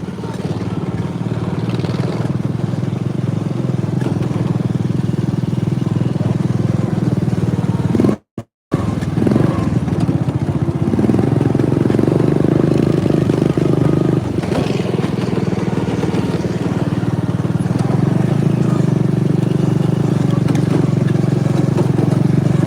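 A John Deere riding lawn mower's engine drones loud and steady as the mower drives up a grassy path outdoors, with a brief dropout partway through and rattling clatter from the machine.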